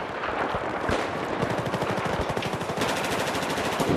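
Rapid automatic gunfire in the shooter game Battlefield 4 from a Bulldog rifle, a dense rattling burst of shots repeating quickly over several seconds, with no talking.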